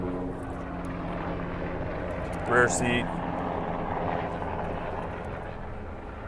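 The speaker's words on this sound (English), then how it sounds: "if you can hear those helicopters, we have an airport with the Army base there" Black Hawk military helicopters from a nearby Army base airport drone overhead with a steady, low rotor hum that persists throughout, while someone briefly speaks nearby.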